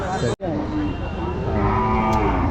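A calf moos loudly and close by, a long low call over the murmur of a busy outdoor crowd at Mallikbari cattle market in Bhaluka, Bangladesh.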